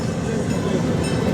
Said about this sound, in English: a nice relaxing ride there on the Panorama Bahn down here to the German alley at Europa Park